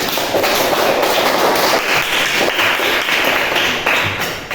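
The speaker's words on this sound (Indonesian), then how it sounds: "Tepuk tangan" A classroom of students gives a round of applause for a classmate during a maths lesson: dense, steady clapping from many hands that fills the whole stretch at a constant level, with no voices over it.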